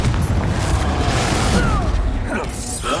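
The Confringo spell explodes in the video game Hogwarts Legacy as a loud, sustained boom and rumble, with a voice speaking over the blast.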